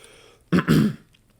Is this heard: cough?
yes